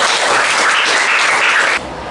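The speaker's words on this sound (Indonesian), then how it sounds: "Tepuk tangan dulu." A classroom crowd claps together in loud, dense applause for about two seconds, then it quickly drops away to a quieter room.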